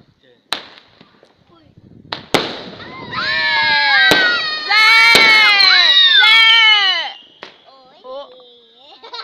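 Lunar New Year fireworks and firecrackers for 2019 set off sharp, loud cracks, then a long stretch of shrill whistling shrieks with scattered bangs before fading to quieter crackles.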